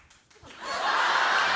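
Studio audience clapping at a talk show, a faint scattered start swelling into steady applause that continues to the end.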